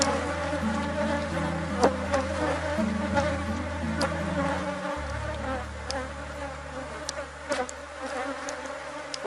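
A swarm of honeybees buzzes continuously and densely at close range while a hive is divided, with a steady low drone and occasional louder passes near the listener.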